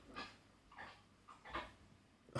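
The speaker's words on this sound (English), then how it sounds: "My dog is vomiting." A dog retching and heaving in the background, with several wet, breathy gagging bursts in an uneven rhythm, faint and somewhat distant.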